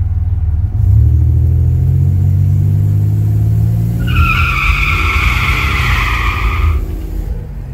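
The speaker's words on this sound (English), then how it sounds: "let's bring this thing up on boost and see if it'll roast the tires." Junkyard Buick Grand National coming up on boost and roasting its tires: a loud engine rumble builds, then a sustained high tire squeal kicks in for several seconds over the roar before easing off.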